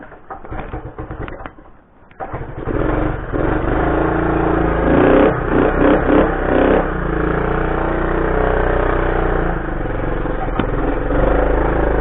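A Honda CT90 motorcycle engine is kicked over with some clatter, then catches and runs with a steady, close, loud idle punctuated by small throttle blips.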